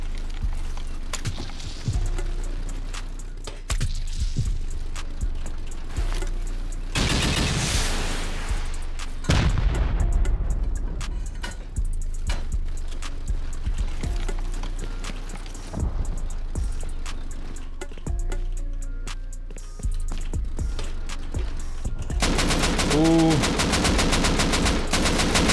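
Auto turrets in the video game Rust fire sustained rapid bursts of automatic gunfire for the whole stretch, with heavier booms mixed in and no talk.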